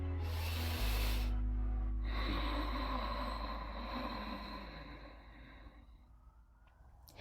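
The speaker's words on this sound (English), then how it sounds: "you can hear a slight hum at the back of a throat." A long, steady Ujjayi breath hisses through the nose, a soft oceanic rush with a faint throaty hum, close and alone, fading gradually toward the end.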